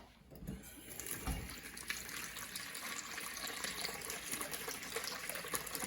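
Hot water pours into a bowl to dissolve alum for an eco-dyeing mordant mixture, a continuous faint rushing splash that runs steadily from start to finish.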